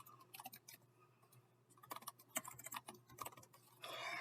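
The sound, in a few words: typing on a computer keyboard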